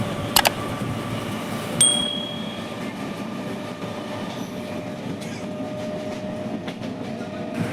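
A commuter train in West Bengal runs along on a morning trip, heard from a window seat as a steady rolling rumble with a brief metallic squeal early on and faint clatter throughout.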